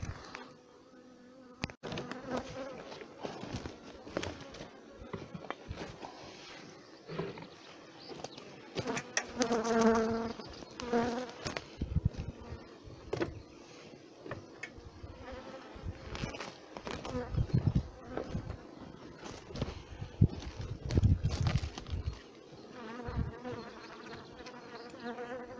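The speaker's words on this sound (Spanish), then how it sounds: "ha llegado la hora de liberar a las abejas para que salgan y empiecen a trabajar." A swarm nucleus of honeybees is released from its box, filling the air with a dense, continuous buzz of many insects close by, rising and falling in intensity, with occasional voices in the background.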